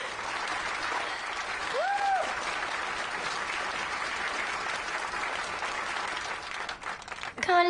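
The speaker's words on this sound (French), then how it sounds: "Un tonnerre d'applaudissements pour elle." A crowd applauds a poem recital with a sustained, dense wash of clapping that stays steady for the whole stretch, joined by a brief tonal sound midway and a short sharp sound near the end.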